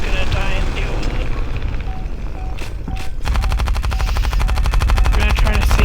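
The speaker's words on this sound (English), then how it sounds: "So I'm gonna just continue firing, and continue firing." Rapid automatic aircraft gunfire from War Thunder Mobile, carrier-based plane combat: continuous dense bursts with a loud sustained rattle through the second half, over steady engine drone.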